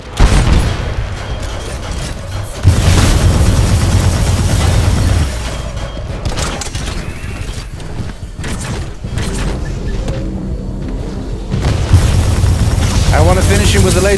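Laser shots in Titanfall 2 combat, heavy booming blasts and rapid bursts of fire crowding each other loudly, with a voice talking at times beneath them.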